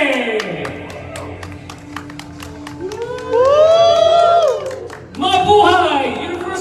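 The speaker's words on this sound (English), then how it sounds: "Please give her one more round of applause!" Crowd cheering and applauding to welcome Universal Woman 2024 at a homecoming press conference at a hotel, steady rhythmic clapping rising into loud excited screams and shouts, with a brief dip before another burst of cheering.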